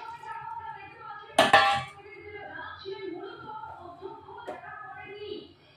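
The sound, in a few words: lid put on a pan cooking hilsa fish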